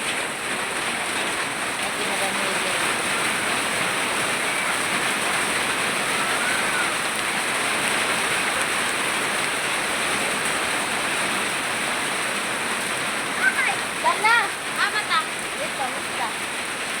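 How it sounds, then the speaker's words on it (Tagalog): Steady, dense rainfall hisses throughout, with faint voices and a few brief louder sounds near the end. "Ulan na dire sa amo."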